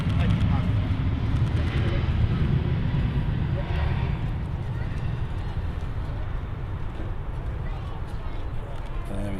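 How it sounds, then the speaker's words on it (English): An Aer Lingus A321neo long-range jet on its takeoff roll gives a steady, broad engine roar with rumble and wind noise, heard from a distance under ongoing talk. "Aer Lingus A321. Long range Neo on the roll in the livery as well."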